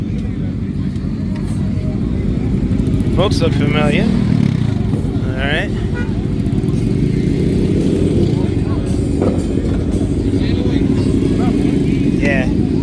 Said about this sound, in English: Motorcycles! Gotta give a shout out to my peeps.